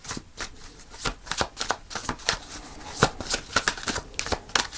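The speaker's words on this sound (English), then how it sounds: "I'll do a couple more shuffles" Crisp, rapid riffling of a tarot card deck being shuffled, close and fairly loud, with bursts of flapping cards repeating in quick succession.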